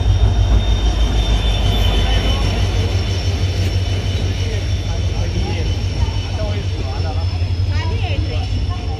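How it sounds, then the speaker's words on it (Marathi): A train pulls into Kankavli railway station with a continuous loud rumble and faint wheel squeals, while people talk nearby on the platform. "ट्रेन आली आहे बघा."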